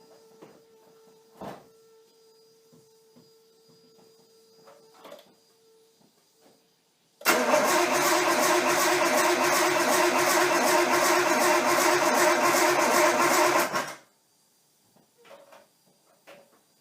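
A Nissan 240SX S13 with a swapped RB20DET engine cranks and fires for its first start, a loud dense roar lasting several seconds before cutting off abruptly, with quieter clicks and shop noise around it.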